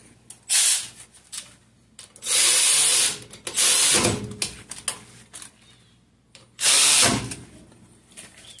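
Power tool driving rear brake bolts on a 2006 Cadillac SRX 3.6: three loud bursts of whirring impact driving, each about one second long, separated by quieter clinks and handling noises, with no talk.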